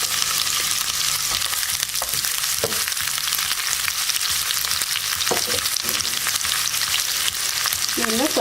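Sliced onion hits hot oil with popping mustard and cumin seeds, giving a loud, continuous sizzle close by, with scattered stirring scrapes and no voices.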